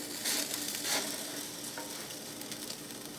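Soft, steady sizzling of food cooking in a countertop toaster oven, fairly quiet and close, with a couple of brief louder crackles near the start and no voices.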